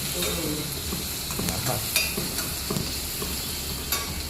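Ginger and garlic fry in a pan and are stirred while a peanut bhajiya curry is cooked. A steady, fairly loud sizzle runs throughout, broken by repeated scraping and clicking strokes of the spoon. No one speaks.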